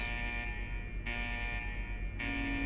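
Alarm buzzer near a submarine in Fallout 4, a loud steady electronic drone pulsing in repeated bursts about every half second with harmonic tones.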